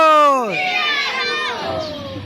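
A crowd of young schoolchildren shouts a chant together, loud and close, with a rising and falling group call lasting about two seconds.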